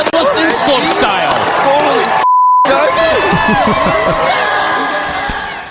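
A short, steady censor tone cuts into broadcast audio from Olympic slopestyle snowboarding coverage, replacing a spoken word. Lively talk and crowd noise fill the rest of the stretch.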